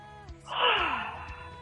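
A single person's yawn during a stretching session: a breathy inhale that swells into an open, drawn-out exhale with a falling tone, heard up close and alone.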